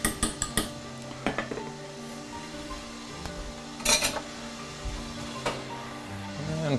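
A lid is set on a cooking dish with a few bright metallic clinks at the start and another sharp clatter mid-way, followed by faint, lighter taps in a quiet kitchen.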